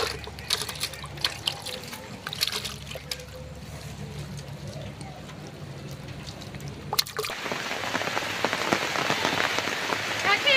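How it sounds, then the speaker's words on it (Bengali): Rain begins falling outdoors beside a pond during hook fishing for tilapia, a soft patter at first that turns into a dense, steady hiss of rain on water and surfaces, with brief knocks early on. "এদিকে বলতে বলতেও বৃষ্টি শুরু হয়ে গিয়েছে"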